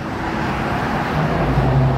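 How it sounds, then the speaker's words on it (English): Diesel engines running with a steady, continuous low rumble, fairly close, swelling slightly louder toward the end, with no talking. "Got them diesels going."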